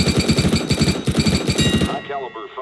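Rapid automatic gunfire bursts in a Counter-Strike: Global Offensive training course, a loud, fast rattling run of shots that stops abruptly and is followed by a brief tail of spent echoes.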